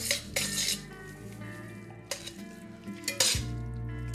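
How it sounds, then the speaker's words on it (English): Pasta being tossed with pesto and spinach in a pan, metal utensils clinking and scraping against the cookware in irregular bursts, close up with a faint sizzle and no talking. "And now, time to toss. Toss and toss until everything gets really nicely coated."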